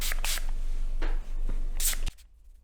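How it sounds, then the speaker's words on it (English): Root lifter volume spray hisses from a can onto hair in a few bursts: two quick sprays, then a longer steady one and a final burst, close and fairly loud before stopping abruptly. "I'm still just gonna shake and then just start spraying."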